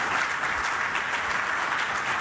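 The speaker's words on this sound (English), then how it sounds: "Please join me in giving them and the organizers a round of applause." Conference audience applause, a dense continuous wash of many hands clapping at steady volume throughout, with no talk over it.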